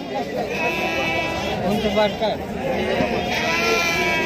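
Sheep bleat at a busy goat and sheep market in Sangola, their calls rising over steady crowd chatter while people talk nearby throughout.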